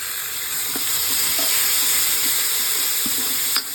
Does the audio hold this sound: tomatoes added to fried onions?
yes